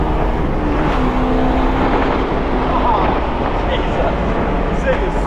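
A 1967 Pontiac LeMans engine drones loudly and steadily from inside the moving car, a dense rumbling roar with road noise that holds throughout as people talk over it.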